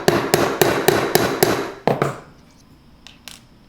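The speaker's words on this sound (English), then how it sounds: "Let's put one of these discs in and just get a little dome on it." A hammer strikes a small metal disc in a dapping block to form a dome, six sharp ringing blows in steady rhythm, then a couple more taps after a pause, loud and close with no talk.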